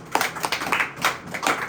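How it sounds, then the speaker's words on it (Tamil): A church congregation claps hands in praise, a quick irregular run of sharp claps heard fairly close, with no voices over them. "கைத்தட்டி ஆண்டவரை மகிமைப்படுத்த."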